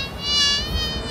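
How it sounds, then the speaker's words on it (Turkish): Fly buzzing close by in a steady, high whine that holds for about a second over low background rumble. "Fena bir sinek bastırdı."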